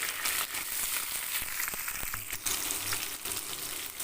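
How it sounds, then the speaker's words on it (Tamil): Onions sizzling in hot oil with crackled mustard seeds, curry leaves and dried red chilli, a steady dense frying hiss at close range with occasional small pops and stirring clicks, no talking. "வெங்காயம் கொஞ்சம் நல்லா வதங்கட்டும்"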